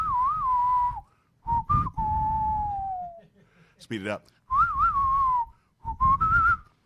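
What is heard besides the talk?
quick whistle sound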